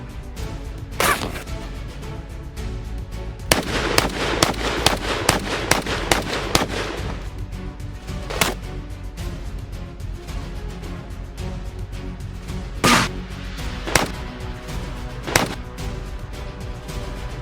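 Shotgun blasts from 12 and 20 gauge guns during wild boar hunting ring out as loud, sharp reports, mostly spaced apart, with a rapid cluster of shots partway through and no talking.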